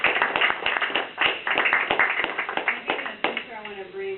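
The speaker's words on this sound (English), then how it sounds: "So I'd like to give them a round of applause." Scattered clapping from an audience at a Pacific council public meeting, dense at first and thinning out, with speech mixed in toward the end.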